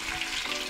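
Food sizzles in hot frying oil, a dense steady crackle with light bubbling, close and continuous for under a second, no voices.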